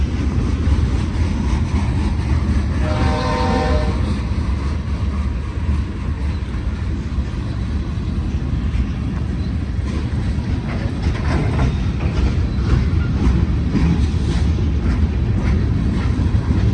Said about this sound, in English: Here comes the Union Pacific MOAOA train.